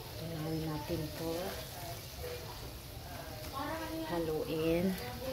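Nacho ingredients melting in a hot pan give a steady sizzle and crackle throughout, close and continuous, with a person talking over it.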